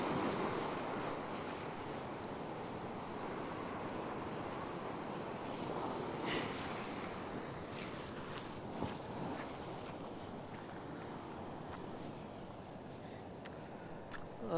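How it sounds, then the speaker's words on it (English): Ocean waves surging in against rocks at a rock fishing spot, a steady washing roar of surf with wind noise, swelling and easing over several seconds. "Just got to watch these waves that are coming in."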